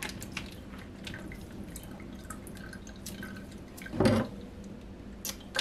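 Liquid drains and drips from a punctured raw Cornish hen in a home kitchen, a soft steady trickle with one louder splashing burst near the end, close and alone.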